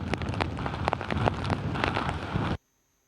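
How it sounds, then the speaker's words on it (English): Torrential rain from Hurricane Fiona pours down in Puerto Rico, a loud, dense, continuous roar of heavy downpour that cuts off abruptly into silence. "Hurricane Fiona unleashed more torrential rain and mudslides on Puerto Rico on Monday"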